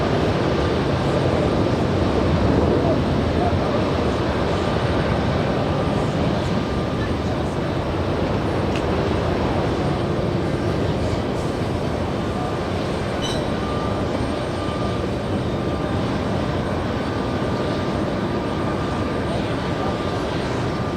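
An airliner flight is departing JFK airport in New York for Dublin, Ireland. Its jet engines give a loud, sustained roar that holds steady throughout, with no voices.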